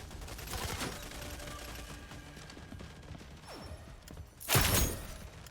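Gunfire in the video game Rogue Company crackles as rapid bursts in the first seconds, then a louder close volley near the end, over a murmuring game background.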